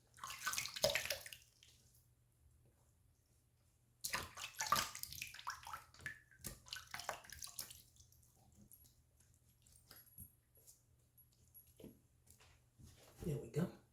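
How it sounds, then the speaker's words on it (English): A shaving razor is rinsed under a running tap in bursts of splashing water, close and moderately loud, with quieter gaps and some drips between. "let's give it a rinse"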